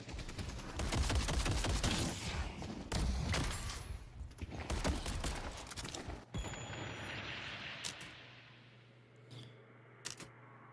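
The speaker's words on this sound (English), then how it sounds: "Bro, I'm trying to go up there and shoot those damn minions." Rapid gunfire in the Deadlock video game as minions are shot, dense bursts of automatic shots with metallic clangs for several seconds, thinning toward the end to a few isolated cracks.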